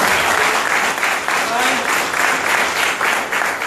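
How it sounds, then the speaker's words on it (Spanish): Loud, continuous audience applause at a corporate gathering in Sincelejo, Colombia, with dense clapping swelling in slight waves throughout, no break in the noise. "aplauso."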